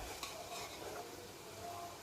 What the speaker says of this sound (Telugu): ఈ అల్లం వెల్లుల్లి పేస్ట్ కూడా బాగా వేపాలండి.